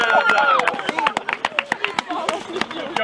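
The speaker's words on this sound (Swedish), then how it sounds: "en applåd för en man!" A small group, likely children, claps for a man: a brief burst of applause that breaks into scattered, irregular claps, with cheering and chatter mixed in.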